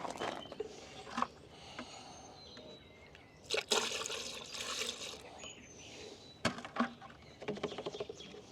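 Coolant pours through a funnel in a shop, a soft trickle with splashy bursts and gurgles that come and go, close by and fairly quiet.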